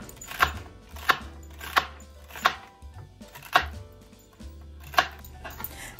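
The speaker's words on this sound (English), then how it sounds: "Cut three large celery stalks and add them to the bowl." A knife chops large celery stalks on a cutting board: six crisp, separate thuds at an uneven pace, close and clear with no voices.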